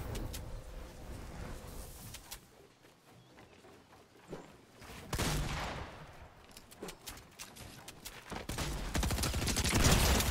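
A pump shotgun fired in Fortnite Arena mode, with several sharp blasts at uneven intervals among gunfire, movement and other game noise that swell toward the end, and no talk.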